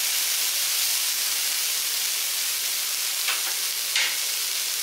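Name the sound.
sprouts being sautéed and stirred in oil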